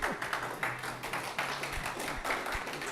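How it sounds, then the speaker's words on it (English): A room full of people at a student club meeting claps, a brisk, uneven patter of many hands, fairly soft with some background voices. "That was a lot of clapping"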